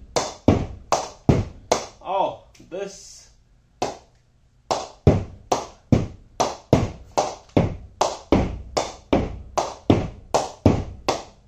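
Special edition cricket bats being knocked with a ball, giving a run of sharp, ringing pings in a steady rhythm at close range, with a short pause and a brief spoken remark partway through.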